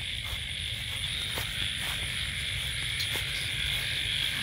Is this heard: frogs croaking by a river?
yes